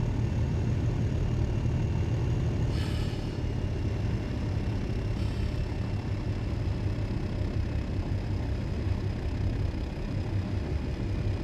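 A Class 37 diesel locomotive, double-headed on a cement train in a train simulator game, works hard uphill with its revs up, giving a steady, heavy low engine rumble that holds loud throughout with no talking.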